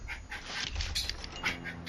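A dog pants in quick, soft breaths and gives faint whimpers in a game studio setting, close and fairly quiet, with no one talking.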